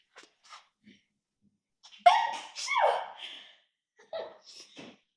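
A sharp sneeze bursts out mid-clip while cooking in a kitchen, preceded by a quick intake of breath, with a few small breathy sounds and murmurs around it in a quiet room.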